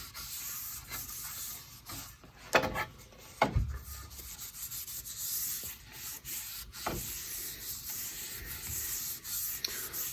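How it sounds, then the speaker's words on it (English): Wet sanding a quilted maple guitar body after a finish coat, heard as steady close rubbing and scraping with a few sharper swipes mixed in, continuing for the whole stretch with no talk. "But we'll probably wet sand with this"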